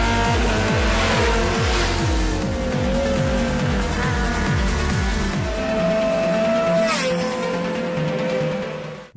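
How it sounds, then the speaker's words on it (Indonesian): Race cars roaring through a night-time race in a film, engines loudly revving up and down in repeated surges, with tires squealing and skidding; continuous and close, no talking. "Setelah sekian lama berlatih, akhirnya pada malam hari Xiao pun menantang Hua untuk balapan."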